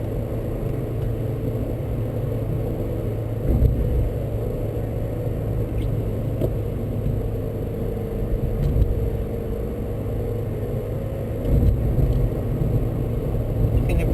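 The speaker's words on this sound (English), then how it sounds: "ease off the gas, gentle gas, push the car around the turn" Steady low engine rumble of a manual-transmission car rolling through a right turn on gentle gas, with a slight swell in revs partway through; continuous and close, no voices.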